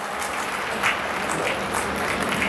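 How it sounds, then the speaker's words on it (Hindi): Applause from a kavi sammelan audience welcoming a poet to the stage, dense continuous clapping from a large crowd, close and steady throughout. "एक बार जोरदार तालियों के साथ स्वागत कीजिएगा"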